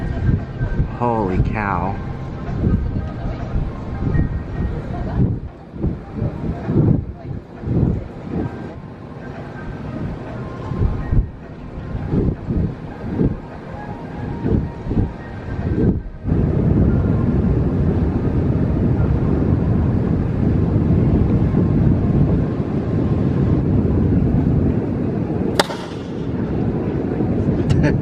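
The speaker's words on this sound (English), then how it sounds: "What you just heard was the sound of the cannon that launches out one of the lines so that they can tie the ship in." A line-launching cannon on the Disney Wish cruise ship at the dock at Castaway Cay fires a sharp bang near the end, over a steady ship and machinery rumble, with people talking and exclaiming throughout.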